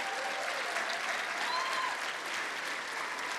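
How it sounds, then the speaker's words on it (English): A crowd at a business talk applauds a guest in attendance, a continuous, full-room wash of clapping that stays constant and fairly loud throughout. "we can give him a round of applause for being in attendance"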